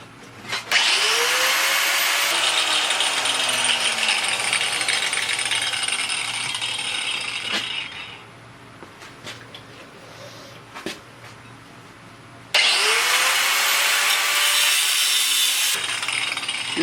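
An angle grinder fitted with a cutting wheel cuts metal pieces off a Schwinn Meridian trike, with two loud, sustained high-pitched grinding passes separated by a quieter running stretch with a few clanks, close and without talk.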